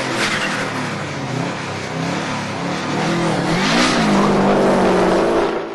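A Subaru WRX four-wheel-drive car accelerates hard, its engine revving loud and close with rising pitch through gear changes, a continuous roar filling the whole stretch.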